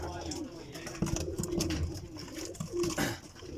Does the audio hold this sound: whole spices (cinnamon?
no